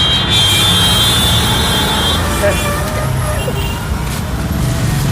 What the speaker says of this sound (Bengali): এদিক দিয়ে গাড়ি যাওয়া খালি